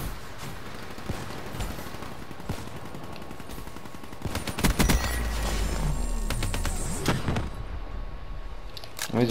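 A Man O' War rifle fires in a video game in quick bursts of repeated shots, loud and close, over continuous game noise and a talking player.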